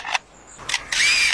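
A lyrebird, a rare Australian bird, mimics a camera shutter with short sharp mechanical clicks and bursts, closely spaced and loud, ending in a longer whirring burst.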